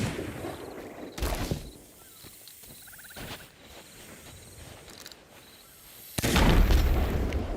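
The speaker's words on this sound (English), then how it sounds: "You harpooned the gunpowder barrel" A gunpowder barrel struck by a harpoon explodes aboard a rented ship in a pirate video game, giving a loud, broad blast near the end after a short burst earlier, with quieter game ambience between.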